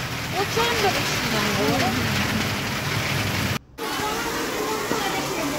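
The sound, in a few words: heavy rain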